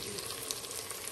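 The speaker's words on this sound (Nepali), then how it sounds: "अब यी मासु भुट्दैछु है" Meat frying in a pan in a home kitchen gives a steady, close hiss and crackle that runs unbroken throughout, with no voices over it.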